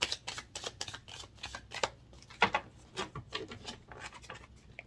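Tarot cards shuffled for a reading: a close, steady run of papery riffles and soft slaps in quick bursts, alone with no talk.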